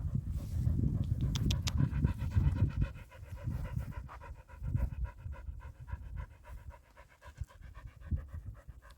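A dog pants hard in the summer heat beside a cyclist on a bike trip, steady quick breaths close by, loud at first then fainter with a soft rhythmic pattern continuing throughout.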